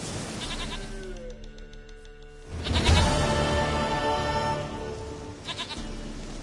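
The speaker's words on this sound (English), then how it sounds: "Goat of mine! Dearest, sweetest goat." A goat in The Witcher 3 on PS5 bleats several times, wavering and nasal, against a steady game soundscape with some rustling and movement.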